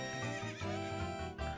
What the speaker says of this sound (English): So this is the horse that he supplies us with